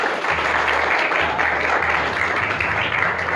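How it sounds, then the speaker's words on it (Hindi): Students in a school classroom clap together in a dense, sustained round of applause lasting a few seconds, with a low hum underneath. "तालियां बजा दीजिए।"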